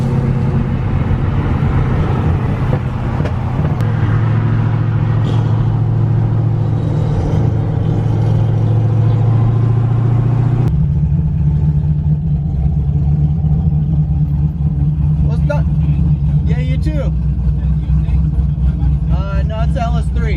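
A Corvette LS3 fitted with a custom-grind boost cam rumbles close by with a loud, lopey idle, rising and settling slightly in pitch, while people talk over it.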